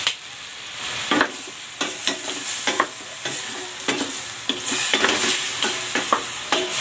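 Garlic chicken soup being stirred in a pot, a spoon repeatedly scraping the bottom in a steady rhythm of distinct clinks and scrapes over a soft bubbling sizzle, close and alone without talk.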